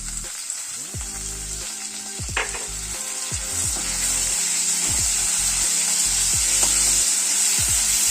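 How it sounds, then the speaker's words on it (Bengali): A ginger, garlic, onion and chilli paste hits hot frying oil with a steady close sizzle, stirred with repeated scraping strokes against the pan throughout. "এবারে আদা রসুন আর পেঁয়াজ আর লঙ্কার পেস্টটা দিয়ে দিচ্ছি"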